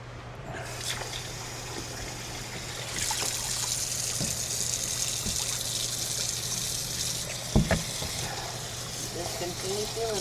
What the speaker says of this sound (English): You want to empty that and refill it with cold water?